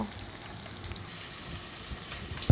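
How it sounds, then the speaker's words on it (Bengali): Paneer cubes fry in hot oil for a Bengali chana paneer dish, giving a steady, soft crackling sizzle close by with a sharp knock right at the end. "পনিরগুলো লাল লাল ভাজা হয়ে গেছে, এবার এগুলো তুলে নেব"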